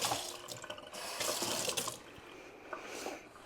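Tap water running into a kitchen sink while something is rinsed off during cookie baking, a steady close gushing splash that shifts as the stream is interrupted, with no talk.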